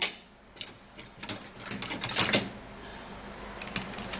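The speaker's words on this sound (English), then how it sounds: "I'm going to grab my manual mixer to mix it so that the moringa can actually mix very well" A hand-cranked manual mixer churns a moringa mixture, giving close, irregular ratcheting clicks and gear whirs in short bursts with brief pauses between.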